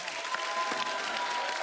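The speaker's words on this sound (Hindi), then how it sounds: "जोरदार तालियां हो जाएं एक बार।" Studio audience applause at a Hindi comedy talk show fills the stretch as a steady, dense wash of clapping at moderate level, with no voices over it.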